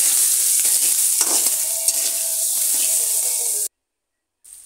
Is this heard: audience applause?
no